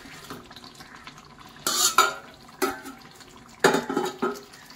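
Fried stuffed eggplants go into a curry and are stirred, giving wet, squelching scrapes and clinks of a spoon against the pot in several short bursts.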